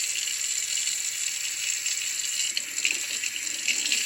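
Bell peppers are rinsed under a running kitchen tap, with a steady, close hiss of water pouring into the sink and a few splashy surges as the peppers and hands move through the stream.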